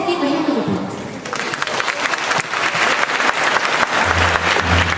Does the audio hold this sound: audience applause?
yes